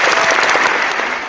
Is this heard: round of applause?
yes